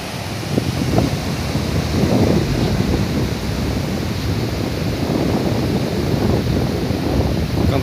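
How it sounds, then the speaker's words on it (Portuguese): Steady, roaring wind buffets the microphone outdoors at the beach, with a broad wash of surf-like noise underneath and no voices. "Tá ventando, gente."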